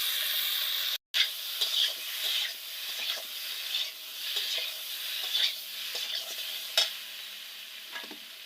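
Cumin paste and ginger paste fry in a pan, producing a close hissing sizzle with intermittent stirring scrapes and pops; the sound cuts out briefly near the start, then continues with uneven swells.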